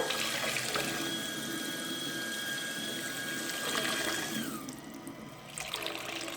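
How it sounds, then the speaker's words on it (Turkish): Water pours and splashes steadily from a tap while a Hello Kitty toy is bathed in lit-up water; a continuous close rushing stream that briefly eases before resuming. "Hello Kitty ışıklı suda banyo yapıyor."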